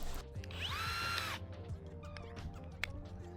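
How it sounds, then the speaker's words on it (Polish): A power drill with a 13 mm bit whines up to speed and bores a rivet-nut hole in a camper van roof for about a second, then cuts off, leaving clattering workshop handling noises and a sharp click. "Wywierciłem otwory pod nito nakrętki wiertłem trzynastką"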